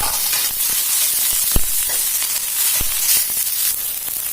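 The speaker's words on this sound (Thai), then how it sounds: "เมื่อเราผัดสักพักนะคะให้ใส่ตัววุ้นเส้นค่ะ" Glass noodles stir-frying in a hot pan with carrot for a vegetarian Thai dish, giving a steady sizzle and hiss with a few sharp clicks of the utensil against the pan.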